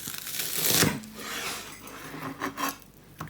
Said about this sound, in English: just slicing them at 1/2 centimeter each as well